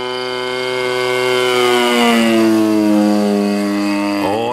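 A 1.5 m Pitts Special RC biplane powered by an RCGF 26cc gas engine screams past in a flying pass, its loud buzzing whine rising and then dropping in pitch as it sweeps by and fades.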